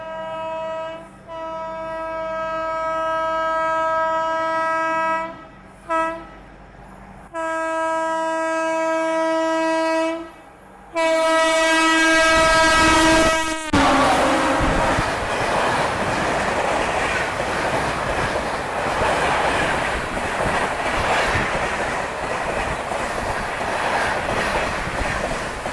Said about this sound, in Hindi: और ये आ रही है अपनी पहली राजधानी एक्सप्रेस,